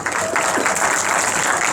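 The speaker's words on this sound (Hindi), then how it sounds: "तालियां बजाओ रग्बी के लिए" A university Q&A audience claps, a brief burst of close, dense applause that stays even and loud throughout.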